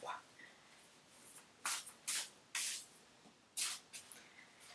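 A deck of cards is shuffled in several quick riffling bursts of crisp fluttering hiss separated by short pauses, close and fairly quiet.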